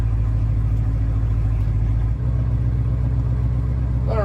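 A Dodge motor home's big turbo engine idles steadily while warming up, a loud, even low rumble with a slight shift in tone partway through and a faint whine at the end.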